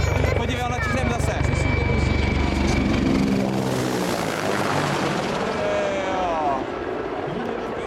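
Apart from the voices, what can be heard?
Mi-24 helicopter flying overhead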